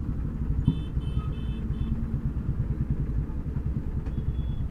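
A motorcycle rides along a highway past traffic stuck in a jam at roadworks, its engine a steady close drone mixed with road clatter and a few brief higher tones.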